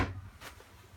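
Kitchen drawer in a 2020 Jayco Eagle 284BHOK travel trailer, a quiet, brief slide and soft bump heard alone.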